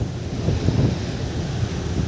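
Strong wind buffets the microphone on the deck of a passenger ship at sea between Surabaya and Banjarmasin, with waves surging steadily underneath in a loud, continuous roar.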